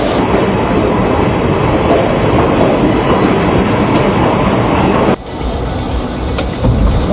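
A passenger train running on rails at a station after flood water drained from the tracks, a loud steady rumbling roll with rhythmic wheel clatter that drops abruptly partway and continues more quietly.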